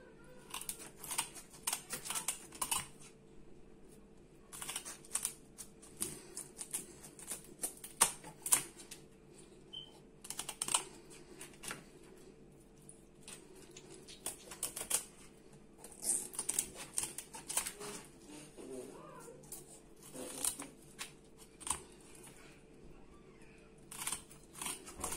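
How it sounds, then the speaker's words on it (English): Scissors snip repeatedly through raw tilapia fish in a home kitchen, a quiet series of sharp cutting clicks and crunches in uneven bursts with short pauses between. "So I have my scissors."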